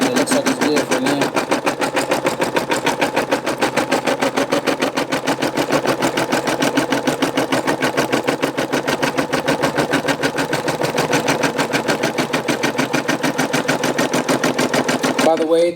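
A Brother SE625 embroidery machine stitching an iron-on patch, running in a fast, even, continuous mechanical clatter of rapid needle strokes throughout, steady and close.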